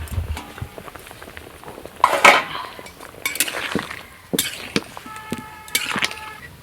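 A metal lid is lifted off a cooking pot of boiled food, giving a few sharp clinks and clatters against the rim amid scattered kitchen knocks and handling noises, fairly close with no talking.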